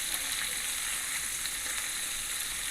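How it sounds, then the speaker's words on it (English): Slices of salami fry in a pan in a Dominican salami sauce dish, giving a steady, bright, hissing sizzle that holds evenly throughout with no talking. "while our salami is getting colored and it's cooking on the other side"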